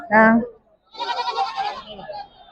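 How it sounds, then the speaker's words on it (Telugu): Goats at a village goat market in Telangana bleat close by, one sharp cry followed by a wavering, longer bleat, with people murmuring faintly nearby. "అసలు ఎన్ని మేకలు ఉన్నాయి ఏంటి అనేది చూద్దాం"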